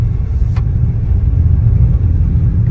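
Mahindra XUV 3XO petrol SUV accelerating in its economy drive mode, a loud, steady low engine rumble heard from inside the cabin, with a brief faint click near the start and no talk.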